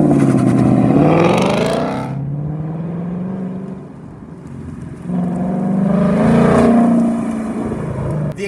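A 2019 Ford Mustang Bullitt V8 exhaust revs loudly twice, rising to a roar, dropping back to a deep idle burble in between, up close.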